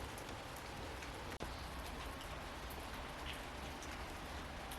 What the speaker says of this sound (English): Doesn't stop raining, so I might as well get comfortable.